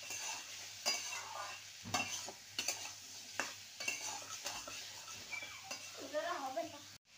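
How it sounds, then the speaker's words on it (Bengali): Potatoes with turmeric powder being stir-fried in a pan for a simple aloo chochchori, with repeated spatula scrapes and knocks over a soft continuous sizzle, close but quiet, no voices. "ভালো করে আলুটাকে কষিয়ে নেব"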